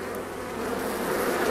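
Honey bees buzz steadily at an open hive frame during a queen-rearing grafting session, a dense continuous drone close to the listener with no talk over it.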